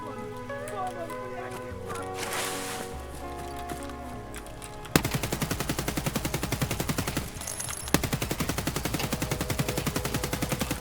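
Automatic gunfire from the video game Escape From Tarkov during a boss fight in the Woods map, a rapid rattling burst starting midway and running steadily to the end over faint background game sounds.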